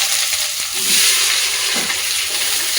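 Onions fry in a pan with a continuous close sizzle, broken by a few stirring scrapes and clatters, with no talking.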